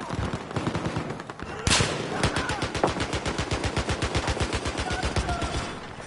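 Rapid automatic gunfire in Battlefield 4 rattles close and loud, with a few single shots followed by a long, steady burst of evenly spaced rounds lasting several seconds, and brief voices in the background.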